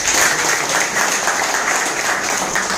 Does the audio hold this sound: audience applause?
yes